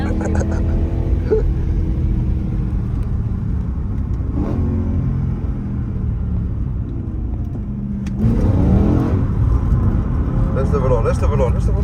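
A BMW M3 E93 engine snarls as the car drifts, with repeated revs rising and falling and a sharp burst of throttle near the end, and a voice talks over the engine from inside the car.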